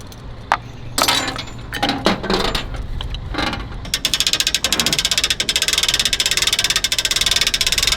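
Ratchet straps being cranked tight to secure a BMW R1250GS Adventure motorcycle on a trailer, with a few scattered clicks and handling noises first, then a rapid steady run of sharp ratcheting clicks, close and loud.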